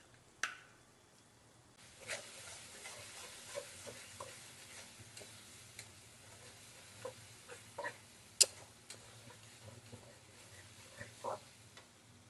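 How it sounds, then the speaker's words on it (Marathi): Masala with beaten yogurt being stirred and fried in oil for egg biryani, with soft, scattered scraping taps of a spoon over a faint continuous sizzle, moderately close and quiet, no talking. "मसाल्यामधला कच्चेपणा जाईपर्यंत, तेल सुटेपर्यंत परतून घ्यायचे मसाले."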